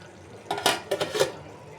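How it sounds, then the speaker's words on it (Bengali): A lid set down over a pot of chicken biryani on a stove at medium-low heat, giving a few quick metallic clinks and scrapes close by over a faint background hiss, with no talk. "এবার ঢেকে দিব।"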